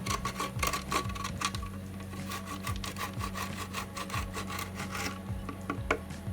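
Parmesan cheese being grated for a salad, a steady rhythmic scraping of repeated rasping strokes, close and fairly quiet, with no talk.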